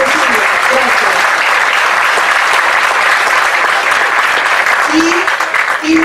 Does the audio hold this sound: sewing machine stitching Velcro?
no